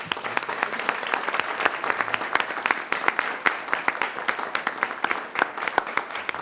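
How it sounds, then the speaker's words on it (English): At a school board meeting, the room breaks into a lively round of applause, many hands clapping in a brisk, uneven patter that stays loud and close throughout. "Another round of applause for"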